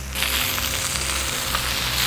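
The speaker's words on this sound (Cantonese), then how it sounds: "煎下個面先" Dry-aged pork fat sizzles and spits steadily in a hot pan, a close, continuous crackling hiss with no voices.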